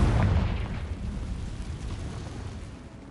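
A Confringo spell explosion in a PS5 video game, a loud, deep boom that rumbles and fades slowly over a few seconds, heard alone.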